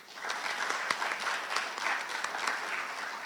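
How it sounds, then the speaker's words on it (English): Young people at a national youth awards ceremony applaud one another, producing a steady, fairly soft wash of clapping in a large room that swells briefly and keeps going for several seconds. "So please give yourselves a round of applause."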